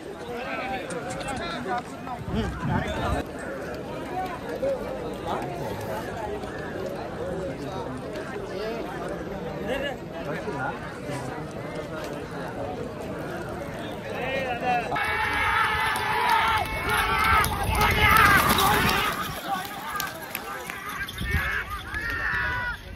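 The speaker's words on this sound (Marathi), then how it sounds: "खाली बघा किती गर्दी" Crowd at a village bullock cart race held for Shri Ram Navami, a continuous outdoor hubbub of many voices with a surge of noise partway through, and someone talks over it.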